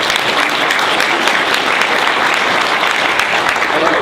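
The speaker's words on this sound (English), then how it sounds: "let's give those guys a round of applause." An audience at an energy company training event gives loud, dense, continuous applause in honor of military veterans, a steady roar of clapping close by throughout.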